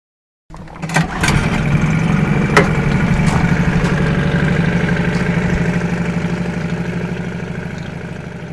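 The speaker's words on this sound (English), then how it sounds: "the sound of an outboard motor" An outboard motor sputters to life and settles into a steady, throbbing idle, loud and close, running alone without voices.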